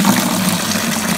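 Water pours out of the engine of an old 1953 Dodge pickup, a loud, continuous gushing splash close by, steady throughout with no talk.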